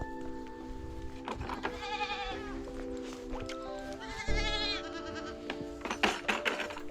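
Several young goats bleat in turn, high wavering cries close by, repeating over a quiet background.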